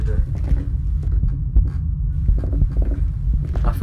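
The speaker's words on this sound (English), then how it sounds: "Wait till your heartbeat calms down." A heavy, muffled heartbeat throbs steadily and loudly in the horror video game Pizza Delivery, a low rhythmic pulse that fills the whole stretch.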